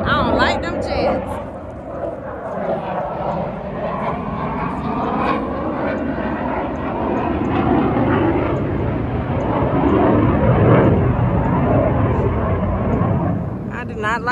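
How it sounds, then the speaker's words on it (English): A loud jet aircraft roars overhead outdoors at a fishing tournament, a broad sustained rumble that swells and peaks near the end, with people talking over it. "Them birds is hauling ass because that damn loud jet."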